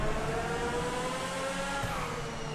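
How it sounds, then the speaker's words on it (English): Lampadati Tigon supercar engine in the video game GTA 5, a steady high-pitched droning whine held at speed, loud and close with no talk over it. "The sound of that engine is awesome. This car sounds amazing."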